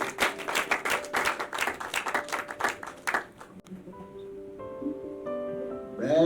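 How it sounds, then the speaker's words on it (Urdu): Clapping from an audience at a book launch event, a burst of fairly close, brisk claps that fades after about three seconds, followed by quiet room tones and a voice. "تو میں آپ سب کی بھرپور تالیوں میں گزارش کروں گا جناب نسیم شاہد صاحب سے"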